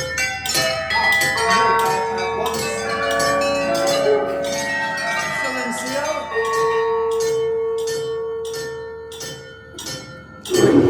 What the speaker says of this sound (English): make the bell ring once